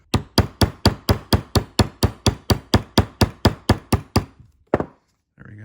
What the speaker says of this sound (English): hammer the edges so that they have a nice cool look to them